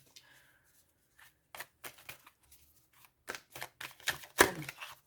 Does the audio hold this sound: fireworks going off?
no